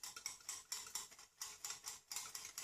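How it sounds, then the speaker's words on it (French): A whisk or spoon strokes steadily through lemon tart filling in a bowl, giving quick, rhythmic scraping and clinking bursts roughly three times a second, close and clear with no talk. "Vous mélangez bien."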